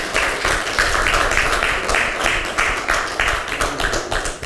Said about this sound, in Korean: 힘찬 박수로 모시겠습니다.